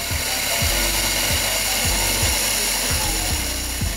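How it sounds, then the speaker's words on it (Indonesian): A Latina T-60 coffee grinder runs loud and steady while grinding beans, its motor drone overlaid by a regular ratcheting click repeating roughly twice per second. "Dan kopi akan tergiling hingga habis."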